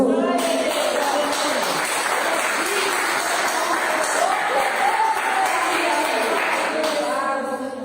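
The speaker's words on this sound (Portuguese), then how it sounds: "Vamos dar salve de palmas para Jesus?" A church congregation claps for Jesus during a morning message, sustained, loud clapping under a voice and a melodic background that carries on for several seconds before easing at the end.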